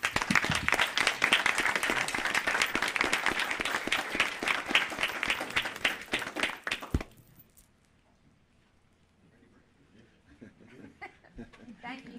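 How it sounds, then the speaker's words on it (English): Applause at a Hope Mills Board of Commissioners town meeting: dense, loud clapping from the audience for about seven seconds, then breaking off abruptly into a quiet room with faint murmurs. "let's give them all a round of applause"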